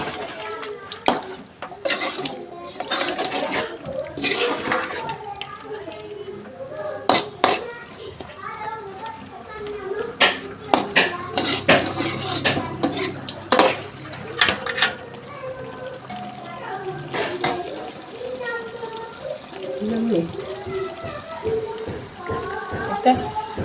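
A spoon stirs chicken sukka with water in a metal pot over a gas flame, making repeated clinks, scrapes and sloshes with sharp knocks against the pot, while voices, including a child's, carry on in the background.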